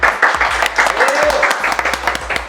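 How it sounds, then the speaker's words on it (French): Studio audience applause on a French-language talk show, brisk clapping and some cheering that stay loud throughout, mixed with voices and a low hum in the background. "on peut applaudir Anti Leto"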